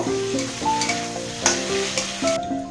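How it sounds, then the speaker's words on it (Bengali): Egg chowmein is stirred through tomato ketchup, red chilli sauce and green chilli sauce in a hot pan, with a loud continuous sizzle, scraping spatula strokes, and background music playing throughout. "সব কিছু দিয়ে একটু ভালো করে মিশিয়ে নেব"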